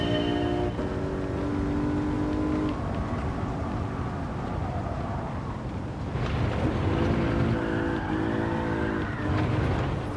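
A racing car in Gran Turismo drones steadily with a strained engine note that rises and falls through gear changes, tires squealing intermittently as it slides about, continuous and close throughout.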